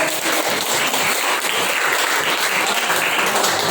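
A classroom of students claps for a group that has just finished presenting in an Islamic jurisprudence lesson, a brisk, continuous spatter of hands that stays fairly loud throughout.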